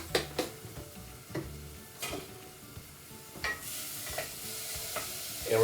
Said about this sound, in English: we're just going to cook that until the onions get nice and tender and a little bit translucent